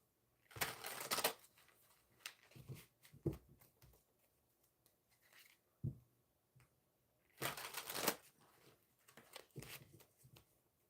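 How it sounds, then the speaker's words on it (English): Tarot cards being shuffled close by in a quiet room, a few riffling bursts separated by soft taps and pauses. "I hope y'all can hear this shuffling noise because it's amazing."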